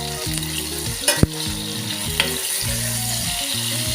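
A Maharashtrian mackerel curry base sizzles steadily in a pan as asafoetida and spices are stirred in, with rhythmic scraping strokes and a couple of sharp utensil clinks against the pan.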